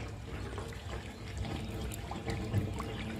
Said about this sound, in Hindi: अब देखिए दोस्तों धीरे धीरे पानी जाने लगा मेरे छत पर से नीचे की तरफ